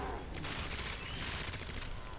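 Rapid gunfire from a fast-firing weapon in Resident Evil 2 Remake, a dense continuous burst of shots running through the whole moment at steady loudness.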